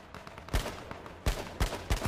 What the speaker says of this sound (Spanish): ¿tres tiros de escopeta